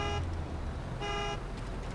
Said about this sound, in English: Sounds like a car horn.